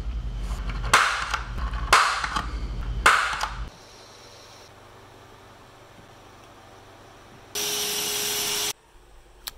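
Power drill boring out the pins of a Victorinox Cadet pocket knife, three loud bursts of drilling in the opening seconds, a quiet low hum afterward, then one more steady high whine near the end.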